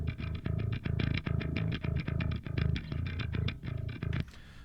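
Distorted bass guitar plays a steady, chugging riff of tightly repeated notes, loud and gritty throughout, then stops abruptly near the end with a brief hiss of tail.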